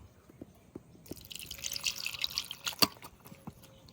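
Water splashes into a bowl of ripe tamarind in a village kitchen, a quiet, close trickle and patter lasting about two seconds after a few faint drips.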